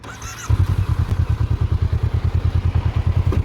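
A 2020 Honda CB400X motorcycle engine idling close up, a steady, even low thumping pulse after a brief quieter start, running smoothly with no speech.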